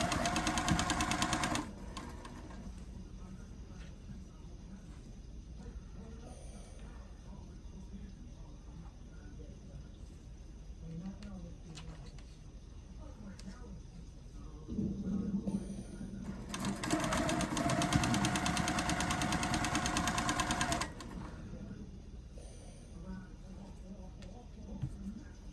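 A domestic sewing machine stitches a strawberry quilt block with a steady mechanical whir, quiet stretches between two louder running bursts at the start and again in the middle.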